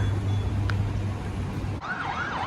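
A wailing emergency siren in Abu Dhabi, with police and fire trucks, sweeps up and down over steady traffic rumble, fairly close and continuous.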